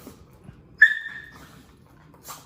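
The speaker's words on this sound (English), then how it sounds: "Can you hear how high Turbo can bark?" A dog named as a high-pitched barker gives a single sharp, high yelp-like bark near the middle, with another fainter, shorter sound close to the end. Faint background noise sits underneath, and no one talks.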